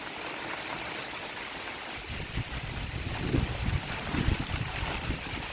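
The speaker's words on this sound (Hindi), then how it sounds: "इधर से बहुत तेज़ हवाएं आ रही हैं।" Strong stormy wind gusts roar steadily through a forest near a stream, with broadband rushing buffeting the microphone and growing louder in surges over the second half, with no voices.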